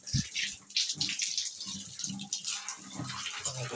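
Water runs and splashes from a tap while feet are washed, a steady close trickle with faint voices in the background.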